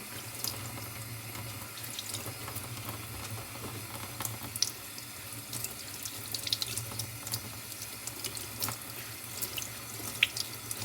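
Shaggy ink cap mushrooms (Coprinus comatus) are rinsed under a running kitchen tap, a steady hiss of flowing water with small splashes and drips, quite close and without speech.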